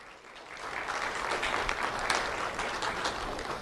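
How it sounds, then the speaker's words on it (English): Steady applause from an audience honoring a middle school student at a sheriff's office recognition ceremony, many hands clapping at once and holding an even, moderate level throughout with no voices standing out. "Let's have a round of applause for Luis Rodriguez."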